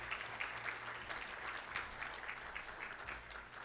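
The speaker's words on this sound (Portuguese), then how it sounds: "aplaudindo o Senhor em nome de Jesus Cristo" A church congregation claps together during a live Friday worship service, a steady wash of applause that stays fairly faint and distant, with a low hum running underneath throughout.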